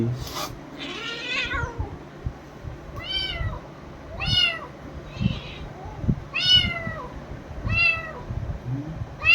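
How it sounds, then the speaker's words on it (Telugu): A young kitten meows repeatedly, about six or seven distinct high, plaintive cries spaced a second or so apart, close to the microphone over faint background rustling. "ఇదిగోండి మా బుజ్జి పిల్లి."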